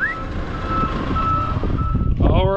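A steady high electronic beep sounds from a reversing truck over a low engine rumble, ending with a brief whirring rise.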